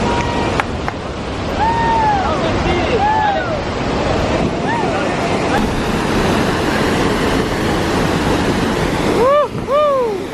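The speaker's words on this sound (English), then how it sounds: "We got a little closer to the big one right here, the father of all waterfalls." Iguazu Falls heard up close from the big main waterfall, a loud, constant broadband roar mixed with wind buffeting, while excited voices call out over it.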